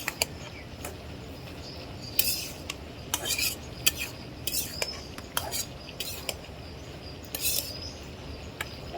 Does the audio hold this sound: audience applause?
no